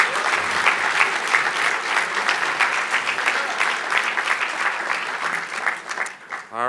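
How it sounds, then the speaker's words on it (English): Conference audience at a Young Americans for Freedom event gives a loud, sustained round of clapping for former House Speaker Newt Gingrich, tapering off as a voice begins at the very end. "Let's have another round of applause for Speaker Gingrich"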